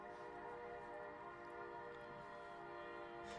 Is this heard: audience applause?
no